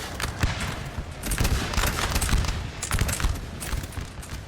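Musket volleys crackle in the Napoleon: Total War video game during a large battle, dense overlapping shots rolling on and on at a steady loud level, like a distant fusillade.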